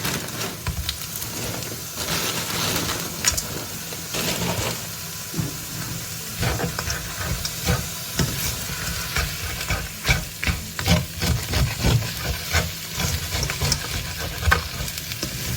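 Shrimp fried rice with mixed vegetables and kale sizzles loudly in a hot pan while being stirred, with a steady hiss and rhythmic scraping of the spatula close up and no talking.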